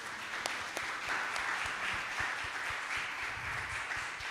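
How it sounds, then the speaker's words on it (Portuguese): A church congregation applauds during a Portuguese-language worship service, steady dense clapping filling the room at moderate level throughout, with no one speaking over it. "Uma salva de palmas para Jesus."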